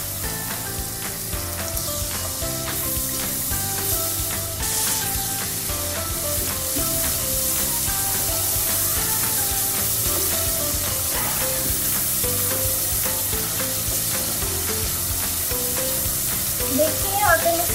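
Masala with yogurt frying in oil for a potato and egg curry gives a steady, close sizzle with occasional stirring, running continuously beneath soft background music.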